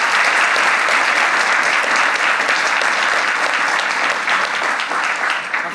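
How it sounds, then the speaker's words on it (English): A conference audience gives a dense, steady round of clapping at a closing keynote panel, loud and sustained throughout. "So Can we get a round of applause?"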